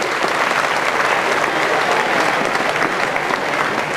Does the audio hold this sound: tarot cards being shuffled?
no